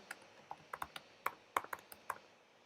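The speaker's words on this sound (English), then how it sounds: "I will enter my admin password" Typing on a MacBook Pro keyboard: a quiet, irregular run of about a dozen light key clicks, close and soft, with no voices.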